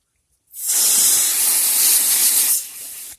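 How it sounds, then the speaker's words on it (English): A Hydrolicker pressure washer lets out a gentle water spray, a bright steady hiss that starts abruptly from silence, holds for about two seconds, then drops to a softer trickle before cutting off. "especially if you do a gentle spray like that"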